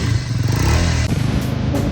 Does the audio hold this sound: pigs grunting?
no